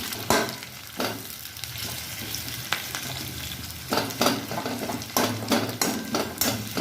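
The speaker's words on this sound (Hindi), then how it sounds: "तेल गरम आम पकईदेलु तेजपत्र। बर्तमान पकईदे गोटा जीरा पकईदे पियाज को जस्ट चलईदे।" Onions and cumin seeds frying in hot oil with bay leaf, a steady close sizzle broken by repeated stirring scrapes and clinks of a utensil against the pan, alone without talk.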